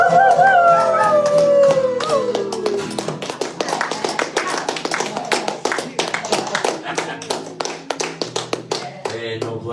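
A voice imitates a coyote howl during a live coffeehouse performance, a rising and falling wail lasting a couple of seconds before giving way to a steady rhythm of taps and claps.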